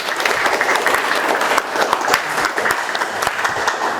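A classroom of students applauding together during a morning lesson, a steady, fairly loud burst of many hands with a few sharper individual claps standing out.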